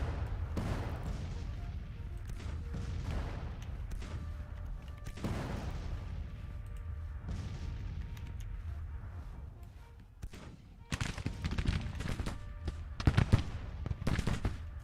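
Artillery fire in Grand Tactician: The Civil War, during the Battle of Second Manassas, booming in repeated irregular bursts over a steady low battle rumble, with sharper, louder reports clustering toward the end.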